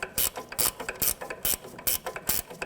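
Hand ratchet clicking in quick, regular bursts while loosening the nut on the rear shock of a 2002-2005 Ford Explorer, the close metallic pawl rattles coming alone in about seven short strokes.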